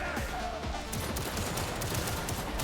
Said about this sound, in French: C'est ton petit flingue là.